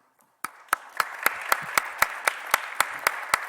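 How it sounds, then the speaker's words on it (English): Clapping at a Notre Dame evening event comes as a sparse, evenly spaced series of about a dozen sharp claps, moderately close, alone with no voices. "Thank you for the applause"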